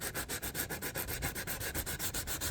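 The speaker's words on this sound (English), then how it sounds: "now we're going to do a little bit of sanding" Rhythmic back-and-forth sanding strokes on the bare, unfinished wood of a guitar body, quick and even, close and fairly quiet, with no talking.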